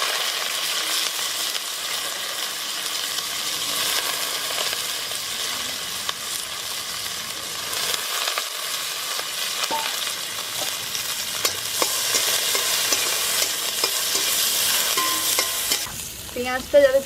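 Onions frying with a little salt in a pan in a village kitchen, a steady close sizzle with light stirring clinks throughout, fading slightly at the very end.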